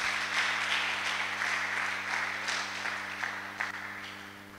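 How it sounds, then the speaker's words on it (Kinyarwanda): A church congregation applauding at a worship service, a broad burst of many hands clapping that gradually thins out, with a steady electrical hum beneath. "Reka dukomere Yesu amashyi menshi"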